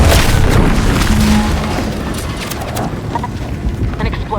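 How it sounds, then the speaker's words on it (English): A loud, dense explosion in the video game Outer Worlds 2 rumbles and roars continuously, a heavy wash of booming noise that slowly tapers but keeps crackling throughout. "An explosion?"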